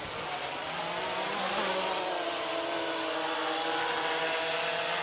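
A 3D X8 six-axis GPS RC quadcopter hovers close by, its rotors giving off a steady, even whine and buzz that holds for the whole stretch without a break.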